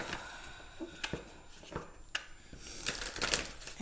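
Tarot cards being shuffled by hand give soft, irregular riffles and crackles close by, building to a denser flurry at the end.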